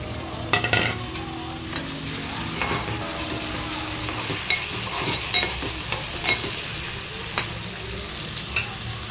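Tomatoes added to browned onions frying in a pan for a dried clam curry, a steady loud sizzle with scattered stirring scrapes and clinks of a spoon against the pan.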